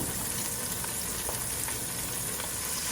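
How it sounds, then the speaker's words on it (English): Shrimp seasoned with kosher salt and pepper fry in a hot pan, a loud, dense, unbroken sizzle heard up close with no talking. "get these shrimp going"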